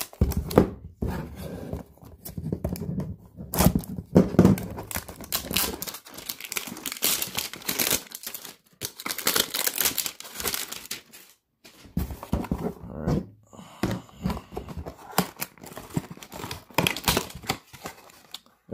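A cardboard hanger box of 2019 Prizm football cards is cut open along its side, giving irregular bursts of crinkling, tearing and scraping. The bursts come close and loud, with brief pauses between them.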